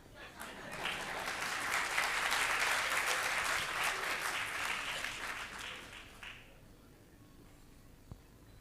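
Audience at a Hindi poetry gathering during a cultural evening applauds steadily, a dense wash of clapping that swells, holds for several seconds, then fades out, leaving near silence.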